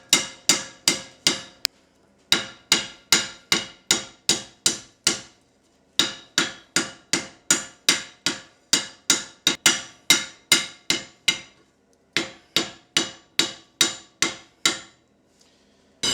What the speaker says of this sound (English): now we'll use a smaller hammer to refine it a bit.